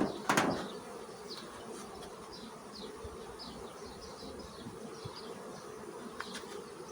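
Honeybees hum steadily around an open hive during colony expansion with a second box, a soft continuous drone with individual bees zipping past nearby and a brief knock at the start.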